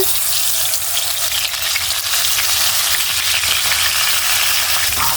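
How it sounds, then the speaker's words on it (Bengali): Koi fish pieces fry in hot mustard oil in a nonstick pan, giving a continuous, even, crackling sizzle close by, with faint scrapes and no voices. "আমি এখন মাছগুলো দিয়ে ভেজে নিব এক এক করে দিয়ে"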